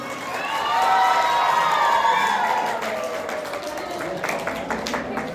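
An audience at an Indian music tribute gathering welcomes a singer with loud clapping and cheering that swells early, while whoops and shouts ride over it, and the claps fade into scattered hand strikes.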